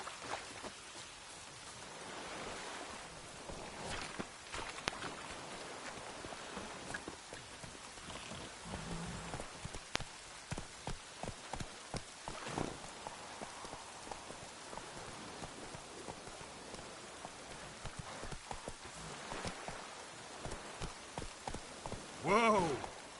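Horse hooves clop in a steady, rhythmic trot through heavy rain in the Silver Sword video game, with a dense patter of raindrops throughout and a voice speaking over the scene.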